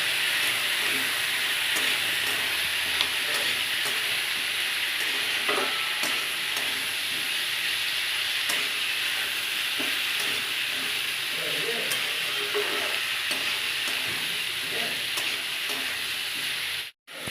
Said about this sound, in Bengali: জিরে গুঁড়ো লঙ্কা গুঁড়ো আদা রসুন বাটা এবার নাড়তে থাকবো